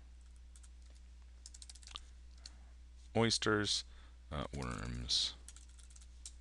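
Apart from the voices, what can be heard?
typing answer options on a computer keyboard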